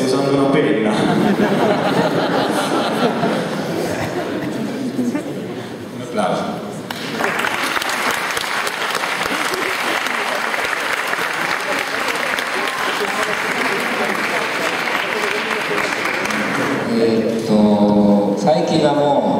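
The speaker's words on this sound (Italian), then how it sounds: "Un applauso." Audience at a Lucca Comics convention showcase breaks into sustained, loud applause lasting about ten seconds, with speech before and after and light chuckling.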